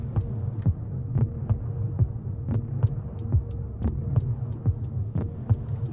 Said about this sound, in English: And now you got this weird little hi-hat in there